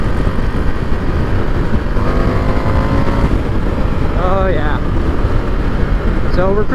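A 2021 Indian FTR 1200 Rally motorcycle cruising on a freeway, its steady engine drone buried in loud, constant wind rush, with a brief rising whine near the end.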